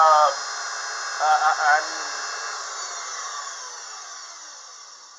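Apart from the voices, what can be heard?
Unimat SL1000 lathe cutting 304 stainless steel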